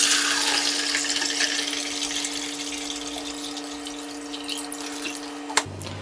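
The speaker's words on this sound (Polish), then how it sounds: "Napełnię teraz zbiornik wody do wartości wskazanej na strzałce." Water pours steadily into the water tank of a Saeco GranAroma coffee machine, a continuous splashing hiss with a faint hum beneath, ending in a small knock.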